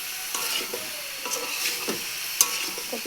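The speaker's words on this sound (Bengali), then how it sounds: "কপিটাকে আমি ভালো করে কষিয়ে নিলাম।" Cabbage stir-fried in a pan, giving a steady close sizzle with scraping stirs and a sharp clink of the spatula near the end, no voices.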